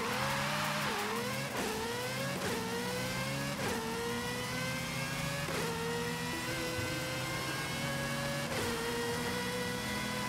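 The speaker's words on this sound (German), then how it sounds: "Ich fahre gerade an dem Porsche Taycan. Ja, Elektro, ne?" A Porsche Taycan electric car driven in the Forza Horizon 5 racing game gives off a steady, close electric whine that climbs in pitch, drops back and climbs again several times, with no voices.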